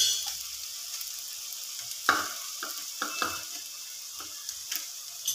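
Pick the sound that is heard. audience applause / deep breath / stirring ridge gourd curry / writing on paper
stirring ridge gourd curry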